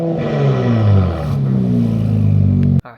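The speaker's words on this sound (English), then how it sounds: "Go ahead and give him a rev, Philip." Infiniti Q50 Red Sport engine revving up loudly for nearly three seconds with a deep, rising exhaust roar, then cutting off sharply at the end.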